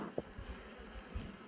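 Honeybees buzz faintly around an open hive box during an inspection, a soft, diffuse drone with a few dull knocks and no talking.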